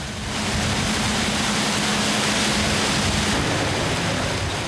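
Heavy sea surf around a mackerel fishing boat makes a dense, roaring wash that fills the clip, loud and unbroken, with a low engine hum beneath.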